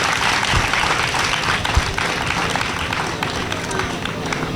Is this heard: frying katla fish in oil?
no